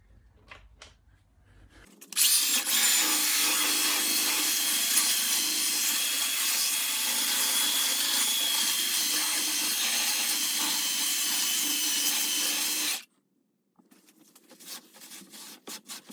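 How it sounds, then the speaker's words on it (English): Battery-powered sander working over a quarter midget race car body during painting prep, a steady loud abrasive whir running continuously for about eleven seconds before cutting off abruptly, with light handling noises before and after. "the battery hopefully is charged here enough to do some sanding"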